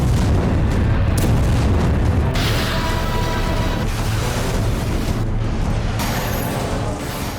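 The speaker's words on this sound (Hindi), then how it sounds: "आपको दिखाते हैं कि रूस ने कितने घातक हथियारों से यूक्रेन पर हमला शुरू किया है।" Rocket and missile strikes from Russian MLRS exploding in Ukraine, heard as a dense, continuous roar of booms and rumbling blasts, loud and sustained with bursts of sharper impacts, with no talking over it.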